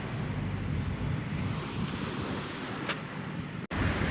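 Steady wash of Black Sea waves at the Odesa embankment, with wind rushing across the microphone, continuous and moderately loud, with no voices.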